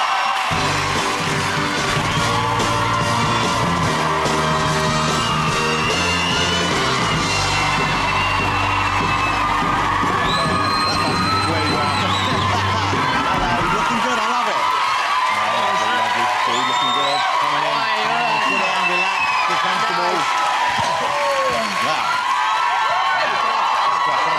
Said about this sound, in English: we heard a little bit of screaming then